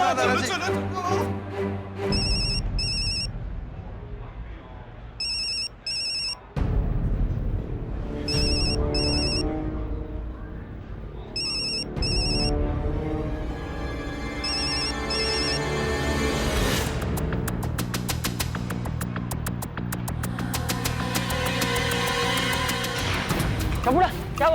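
Repeated electronic telephone ring tones in short paired bursts while a call goes unanswered, looping several times under background music, fairly clear and close.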